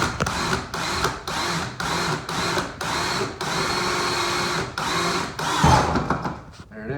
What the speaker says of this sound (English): it's good practice to drill without a lot of pressure